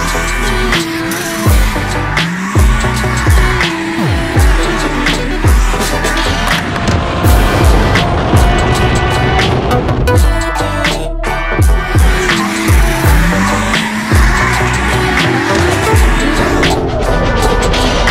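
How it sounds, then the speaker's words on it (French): A Corvette drifts in fourth gear at a Texas drift event, engine roaring loud and continuous with tires squealing under steady wheelspin, close and unbroken throughout. "on est en train de faire du drift en quatrième en Corvette"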